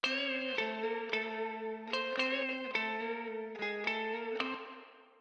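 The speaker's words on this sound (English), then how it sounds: "try out just a very natural sounding plate reverb" Electric guitar played through a Denise Perfect Plate XL pedal set to a natural plate reverb: a series of clean strummed chords, each ringing out with a smooth, lingering reverb tail, with no talking.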